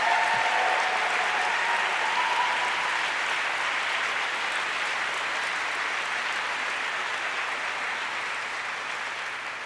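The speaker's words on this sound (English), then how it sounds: "give her another round of applause" Sustained applause from a large audience at the swearing-in ceremony of the 11th Archivist of the United States, steady and loud, slowly tapering off toward the end.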